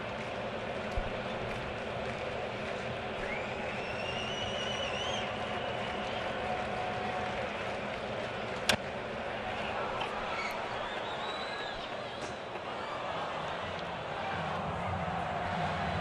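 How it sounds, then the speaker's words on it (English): Sellout crowd of about 45,000 at a baseball game at Rogers Centre, a steady broad roar filling the stadium throughout, with a commentator talking over it. "I wonder if the noise here at Rogers Center has created some issues"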